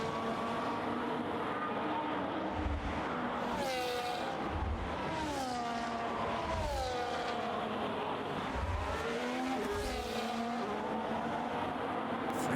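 Engine of a Williams Formula 1 car in a racing game at the Saudi Arabia race, a steady high-pitched whine rising and falling through gear shifts, with repeated swooping pitch changes as the car passes, loud and continuous.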